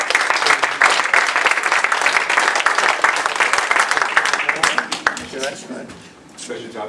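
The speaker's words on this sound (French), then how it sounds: "Je voudrais que vous applaudissiez Angèle Boyer." Loud, dense audience applause at an awards promotion ceremony rings out continuously, then thins and fades near the end as a few scattered claps trail off.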